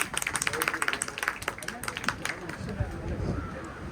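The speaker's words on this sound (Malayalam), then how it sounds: "ഒരു നല്ല കൈയടി കൊടുക്കോ." An audience at a ceremony honouring guests breaks into a quick burst of dense clapping that fades after a couple of seconds, with a speaker's voice over the crowd.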